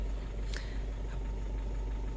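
A Hyundai Creta SX diesel idling steadily, a low constant engine drone close by with a brief higher click near the start, and no talking.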